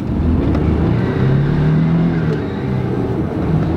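An old four-wheel-drive pickup truck accelerates hard down a small drag strip, its engine a loud, steady roar with rising pitch held throughout at close range.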